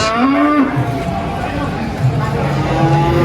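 Angus cattle at a fattening farm moo loudly and close by, a long harmonic call followed by lower lowing, with faint human chatter in the background.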